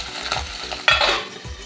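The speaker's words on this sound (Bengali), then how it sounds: "মাছগুলো আমি খুব ভালো করে ভেজে নেব" Pabda fish fry in hot mustard oil for a mango kasundi dish, a brief close crackle and hiss with a sudden sputtering flare partway through.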